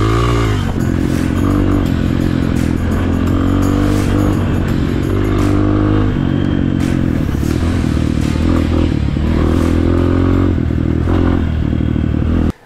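A Rottor Titan 250 motorcycle with a 250 cc engine rides off-road among trees, its engine droning loud and close throughout, with shifting revs, occasional clatter and scraping, and no talk.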